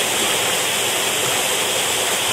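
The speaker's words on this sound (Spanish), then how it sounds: "Vaya ola que he hecho" Water churned into a wave by a person at a pool gives a steady close rush of splashing and sloshing, with no voices.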